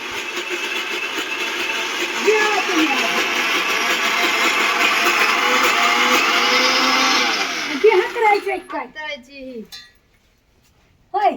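An electric mixer grinder whirs loudly and steadily as it grinds food fine, then spins down and stutters to a stop, followed by a brief silence; voices speak over the machine.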